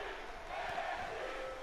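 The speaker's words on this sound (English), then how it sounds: "And the crowd chanting NXT." Crowd chanting "NXT" in the WWE 2K18 wrestling video game, a steady, dense wall of arena voices rising and falling together at moderate level throughout, with no distinct single voice above it.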